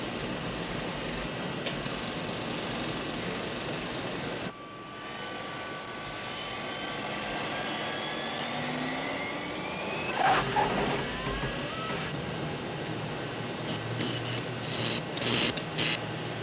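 Aircraft engine running steadily at a strong power setting as a plane begins its takeoff roll in fog, a continuous loud drone with a brief dip partway through and some clicks and rattles near the end.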